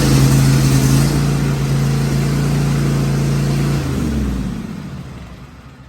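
A Cub Cadet XT1 Enduro riding mower engine runs with a loud, steady mid-pitched drone close by, then its tone drops and it fades toward the end, with no one talking.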